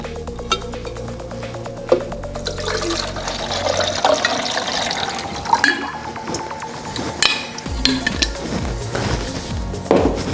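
Water pours into the tank of a red Krups Nescafé Dolce Gusto Genio S Plus automatic coffee machine, a steady close splashing and trickling with scattered drips and a faintly rising filling tone for about ten seconds.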